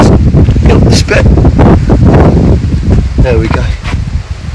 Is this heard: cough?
no